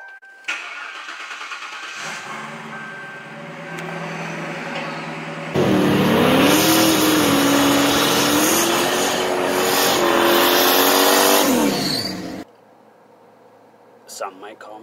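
A turbocharged Lincoln Town Car with a late-model GM V8 starts and revs hard, a loud rising and falling engine roar that holds for several seconds before cutting off, with a voice heard earlier over the idle.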